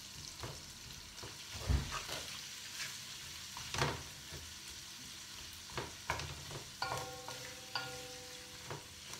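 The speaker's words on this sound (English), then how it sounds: "And we let that cook off roughly for about 3 to 4 minutes." Spices, garlic and vegetables for a Trinidadian vegetable curry sizzle and fry in a pot, with soft stirring scrapes and a few sharper clanks over a low, steady background crackle.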